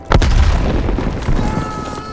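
A grenade goes off in Call of Duty: Black Ops Cold War as a sharp, loud blast, followed by a deep rolling boom that decays over about two seconds.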